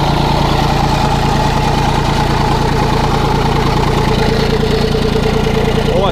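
Kubota D1503 diesel engine of a mini excavator, newly fitted with a new cylinder head, idling close by with a steady loud chugging throb that does not change.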